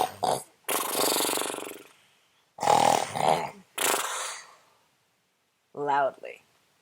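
A voice imitates a bear snoring in a bedtime story, giving several loud, drawn-out rasping snores with short pauses between them, close to the microphone.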